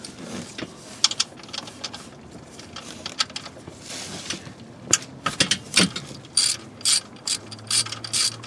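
A ratchet works a 15 mm oil drain plug loose on a Ford Explorer 2.3L, giving bursts of sharp, close clicking pawl ticks in irregular runs with short pauses between strokes.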